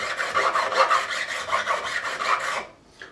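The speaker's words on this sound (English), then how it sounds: "back with the profiling file, edges first, and just get over in, just deburr it" A profiling file deburrs the fret edges of an ESP E-II Eclipse guitar in quick, close, rhythmic rasping strokes, about a dozen in a row. The strokes stop abruptly near the end, and no one speaks.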